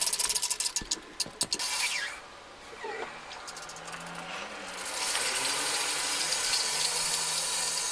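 Royal Purple fluid pouring forcefully into the Coyote-swapped engine of a Fox Body Mustang, a few knocks and clatters first, then a steady, fairly close rushing hiss that holds to the end.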